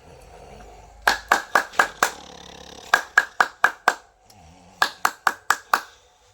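Sharp hand claps ring out in three bursts of about five quick, evenly spaced beats each, close and loud, separated by brief pauses with faint low sound between them.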